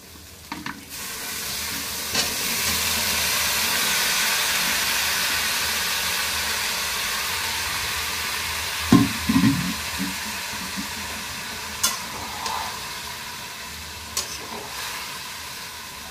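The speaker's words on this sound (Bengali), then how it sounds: "আর ভালো মতো এই মশলাটা কষিয়ে নেব" Ground turmeric, chilli, cumin, coriander and salt sizzle and fry in a pan, a steady hiss broken by scraping, clattering stirs of a spoon against the pan, close and without talk.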